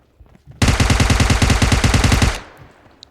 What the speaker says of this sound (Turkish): Şu an biri bana sıkıyor arkadaşlar.